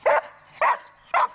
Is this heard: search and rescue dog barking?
yes